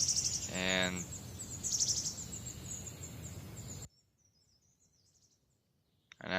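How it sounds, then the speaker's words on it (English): Birds chirp and call in Colony Survival's outdoor ambience for a few seconds, then the sound cuts off abruptly into near silence. "the birds chirping and all"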